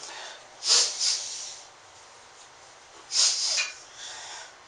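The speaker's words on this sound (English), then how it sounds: "I've got some tissue here. Breathe in and blow it out." Two short, forceful nose blows into a tissue, each a breathy hissing burst about a second long, close to the ear and separated by a quiet pause.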